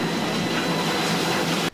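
A new rotary railcar dumper starts operating at a steel plant, a loud, dense continuous industrial rumble and clatter like rail wagons that holds steady and then cuts off abruptly.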